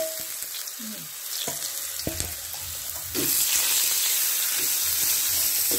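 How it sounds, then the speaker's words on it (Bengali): Chicken fuchka dropped into hot oil, starting as a light crackle with scattered clinks and then swelling into a loud, steady, close sizzle of deep frying. "দেখুন এবার আমি এটাকে তেলে দিয়ে দিলাম।"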